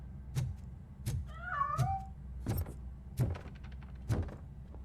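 A cat in the video game Robocop: Rogue City gives one clear, wavering meow amid a series of sharp, evenly spaced metallic thuds, heard close with no talking.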